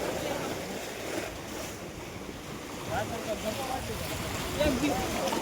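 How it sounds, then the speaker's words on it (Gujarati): Sea surf washing onto the shore near Pindara gives a steady wash of waves, with wind buffeting the microphone and faint voices in the background. "તો કઈ દરિયા આવી ગયા છીએ. દરિયો જોઈ લો તમે ખાલી."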